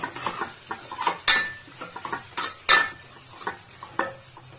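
Veg biryani masala being stirred in a pan: a run of scraping spoon strokes with short clanks of metal, several sharper knocks standing out, close and moderately loud with no talking.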